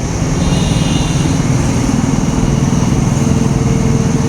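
Motorcycles, auto-rickshaws and cars pass along a busy road, a loud continuous engine drone with no gaps between vehicles, close to the roadside.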